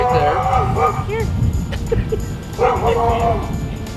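A dog whines in rising and falling pitched whimpers during an outdoor training session in a Salt Lake City park, with a pause mid-clip before the whining resumes, all over steady background noise.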